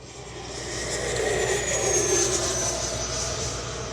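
An E-flite 90mm Viper RC jet model flies past, its ducted-fan whine building into a loud steady roar that swells toward the middle and holds, with no talking.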